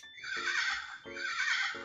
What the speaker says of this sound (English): Very distinct horse sounds, once again setting the time.